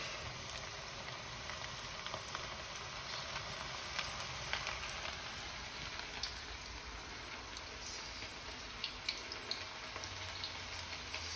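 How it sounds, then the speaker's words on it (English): Beef strips for crispy chilli beef frying in hot oil, a steady dense sizzle and crackle that runs unbroken throughout, close and fairly quiet with no voices. "So we're going to fry them in the oil."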